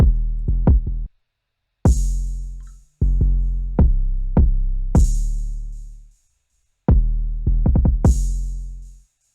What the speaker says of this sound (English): next we got the open hat